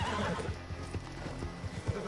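A horse whinnies in Red Dead Redemption 2, its neigh rising over a steady clip-clop of hooves and splashing river water during a chase, fairly close and loud.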